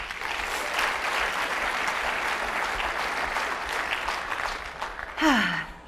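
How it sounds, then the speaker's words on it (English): An audience at a leadership talk gives a steady, full round of applause that carries on evenly, then a sharp close rustle or bump cuts in near the end. "please give yourselves a huge round of applause"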